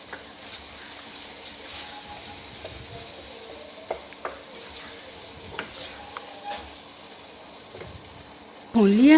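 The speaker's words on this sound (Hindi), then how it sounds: "अब मैं इसमें फेंटी हुई दही डालूंगी और इसको 2 से 3 मिनट के लिए मज़ीद पका लूँगी।" Whisked yogurt cooks with boneless chicken in a handi, giving a soft, steady sizzle with scattered stirring clinks and a louder scrape near the end.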